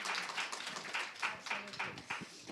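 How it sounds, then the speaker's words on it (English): A small audience at a talk on gender-equal public finance gives a brief, sparse round of uneven claps, with individual hand claps standing out rather than a full roar. "yes, you can clap."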